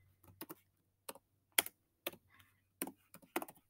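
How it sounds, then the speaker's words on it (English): Typing on a computer keyboard, close and quiet, with irregular bursts of key clicks separated by short pauses against a silent background. "I'm just going to start typing what I wrote."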